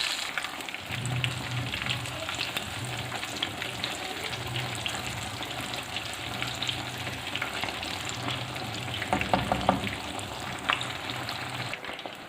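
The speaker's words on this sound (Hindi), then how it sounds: "इसी तरीके से हम सारे बैंगन को फ्राई कर लेंगे" Eggplant slices coated in gram-flour batter fry in hot oil, with a continuous bubbling sizzle and occasional stirring scrapes, heard up close at moderate volume with no speech.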